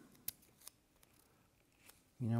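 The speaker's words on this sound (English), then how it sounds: "here scissors. We're just gonna slice this guy in half" Scissors snip through painter's tape in a few sharp, quiet clicks spread across the moment, followed by a sudden louder tonal sound at the end.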